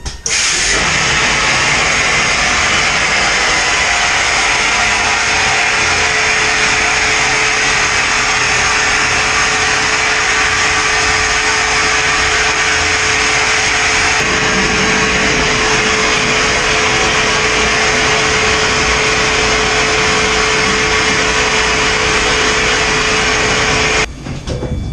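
A vapor blasting booth runs steadily while cleaning a prop valve, a loud, continuous hiss and roar of pressurized spray that holds level throughout, with no talk heard over it.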